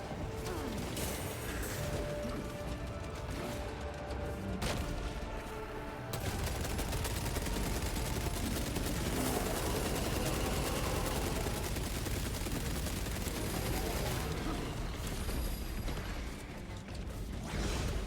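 Heavy bolter fire in Warhammer 40K Space Marine 2, a sustained loud barrage of rapid automatic shots with mechanical clatter, continuing almost without pause across the whole stretch, briefly easing near the start and end.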